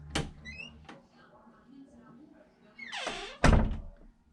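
A bedroom door shut quickly, heard as a soft thunk near the start, then a rising whoosh of movement and a sharp, loud knock-like thud, close by and with no speech over it.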